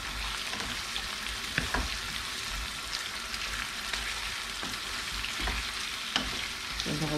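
Aubergines fry in a pan with a continuous soft sizzle, punctuated by occasional clinks and scrapes of stirring, fairly quiet and close, with no one talking.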